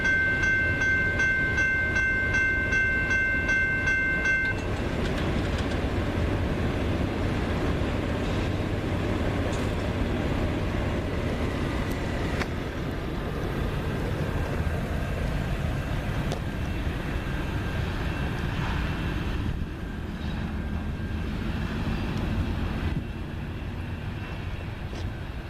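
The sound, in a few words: CN freight train M357 passing and accelerating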